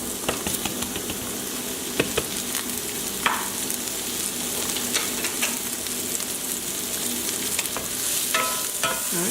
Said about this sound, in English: for about 4 minutes we're going to cook the mushrooms